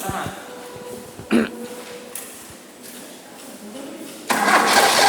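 An engine on an automotive training bench is cranked with the starter during an ignition coil check; short cranking bursts come and go, then a louder sustained run near the end, with voices talking nearby.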